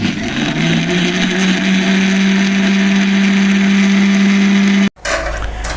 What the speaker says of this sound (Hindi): और अब इसको हम क्रश कर लेंगे।